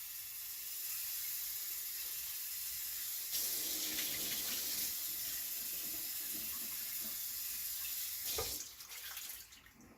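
Tap water runs steadily into a sink while a pour-over coffee maker is rinsed out, a close hissing stream that changes tone as the vessel fills, then splashes and cuts off near the end.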